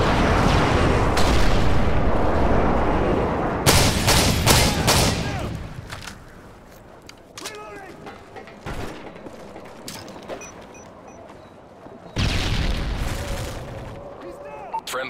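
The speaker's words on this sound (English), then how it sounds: "Delta airstrike on the way." Booming airstrike explosions from the video game Modern Warfare 3, a dense barrage of heavy blasts and gunfire that rolls loud at the start, fades under in-game voice callouts, then erupts again near the end.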